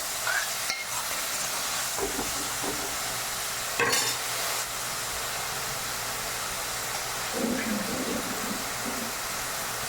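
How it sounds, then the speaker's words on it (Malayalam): Snake gourd sautés in hot oil in a home kitchen, a continuous loud sizzle with occasional scraping stirs and clatters of a spoon against the pan. "എണ്ണയിലിട്ട് വഴറ്റുക."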